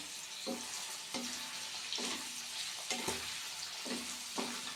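Chicken liver frying in a pan as curry leaves go in: a constant close sizzle broken by repeated stirring scrapes and bursts of crackle roughly every second, with no talking.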